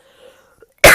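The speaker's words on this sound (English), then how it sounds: "I'm so sorry for my coughing" A single sharp, loud cough bursts out close to the microphone at the very end, after a near-silent stretch with a faint tone.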